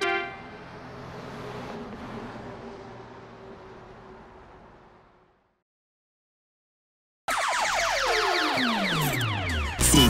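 Cartoon vehicle horn honks in a children's school bus song, a loud sustained blare arriving after a fading musical passage and a short silence.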